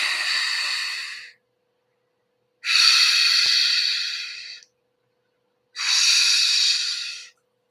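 Slow, deep breathing exercise: three long, close breaths alternate with silent pauses, each a loud airy rush that swells and fades, with no talking.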